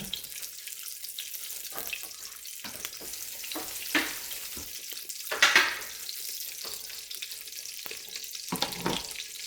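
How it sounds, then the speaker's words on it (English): Corn tortilla frying in red chili sauce in a pan on a stove, a faint steady sizzle broken by louder splattering bursts as it is moved, no talk. "fry your tortilla in there"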